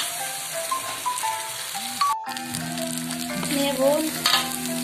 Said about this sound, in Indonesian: Ini kita tumis sampai bumbunya matang ya bun.